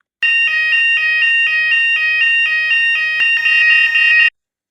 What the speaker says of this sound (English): So the most important alarm of all is the continuous alarm